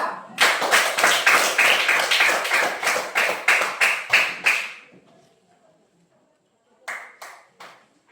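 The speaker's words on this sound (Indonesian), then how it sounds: "tepuk tangan untuk kelompok" A group claps steadily for several seconds, the applause fading out, then a brief second burst of a few claps after a short pause.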